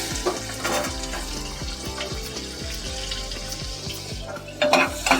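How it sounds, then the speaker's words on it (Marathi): Chopped onion sizzles in hot oil with asafoetida as the tempering for suran sabzi. A spoon stirs and scrapes against the pan in repeated clinks over a constant, close frying hiss. "आता कांदा टाकूया आपण फोडणीला."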